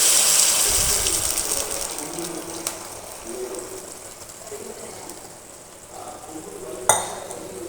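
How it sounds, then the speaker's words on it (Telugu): Boiling water pours into a pan of upma being made from suji rava, a loud gushing splash at first that gradually thins and quietens, ending with a sharp metallic clink near the end. "ఇప్పుడు ఈ వాటర్ ఇందులో వేసేసుకున్నాం."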